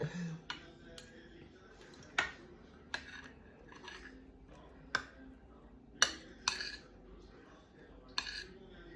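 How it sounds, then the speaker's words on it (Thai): A metal spoon clinks against a plate during a meal of pork leg rice, with about a dozen sharp, irregular taps close by over a quiet background. "เวลาช้อนกระทบกระชามทุกคนเสียงดัง"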